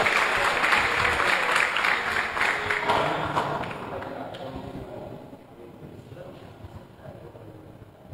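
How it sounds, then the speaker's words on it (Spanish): Audience applause at a municipal recognition ceremony held by the Lago Agrio mayor's office, starting as loud, dense clapping and slowly fading over several seconds as the crowd quiets. "Fuerte aplauso"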